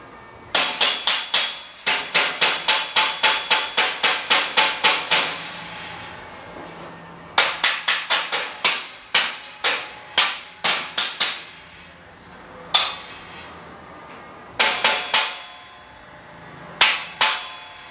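A hammer strikes metal or wood in rapid, evenly spaced bursts of sharp, loud blows during a build of a gas-powered splitter, with pauses between bursts and a few single hits near the end.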